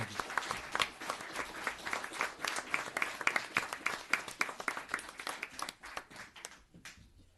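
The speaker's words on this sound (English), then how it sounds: "a very nice round of applause for Yorktown Police Department" A modest room at a town board meeting claps for the Yorktown Police Department, with distinct, fairly close handclaps in a steady patter that tapers off toward the end.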